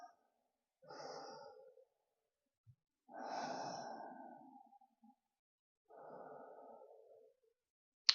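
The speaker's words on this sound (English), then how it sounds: "I'm taking 3 slow, steady breaths here." Three slow, steady breaths taken during a gentle morning yoga twist, each a soft airy inhale-exhale swell, close and quiet, separated by brief pauses.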